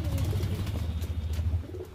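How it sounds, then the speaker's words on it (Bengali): Pigeons just let out of a new home loft give a short run of close, low, throaty coos, with no voices. "হ্যাঁ বন্ধুরা দেখছো এই প্রথমবার ছাড়া হলো পায়রাগুলো"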